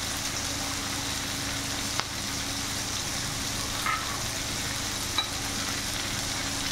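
Ground spices such as cumin, chilli and turmeric with salt frying in a pan for fish-head rajma, a steady soft sizzle running throughout with a few faint clinks of stirring, no talk.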